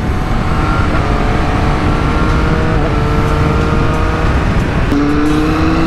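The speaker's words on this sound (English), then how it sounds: "Look at that quick shifter noise, man." A Ducati V4 or Triumph Street Triple motorcycle accelerates hard, its rising engine whine stepping up with a quick-shifter gear change near the end, loud and close.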